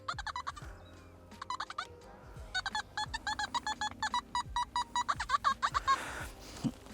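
Beeping tones from a Nokta Simplex Ultra metal detector on its Fulton program, sounding over a coin and a spinning ring: a run of short, rapid chirps in irregular bursts, fairly close and clear with no talk.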